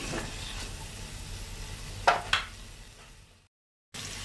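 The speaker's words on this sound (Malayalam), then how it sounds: "ഈ സവാള ഒന്ന് വഴറ്റി കിട്ടണ വരെ നമ്മൾ ഇതേപോലെ തന്നെ ഇളക്കി കൊടുക്കാം" Onions being stirred and sautéed in a pan for an Andhra-style chicken biryani, with a steady close sizzle and a couple of sharp scrapes of the spoon before the sound cuts out briefly.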